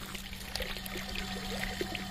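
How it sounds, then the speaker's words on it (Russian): Water flowing by gravity into a sand well during well drilling: a steady, noisy trickling and pouring with a constant low hum underneath and a few faint clinks. "Вода у нас идет самотеком."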